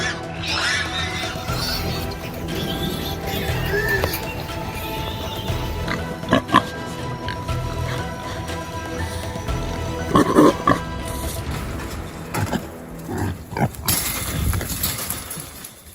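Wild boars trapped inside a pen give grunts and squeals under a steady rustling, shuffling din, with a few louder squeals standing out near the middle and toward the end.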